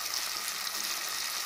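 Tomatoes, garlic and shallots sautéing in sesame oil for a garlic kulambu give a steady, close, dense sizzle with no talk over it.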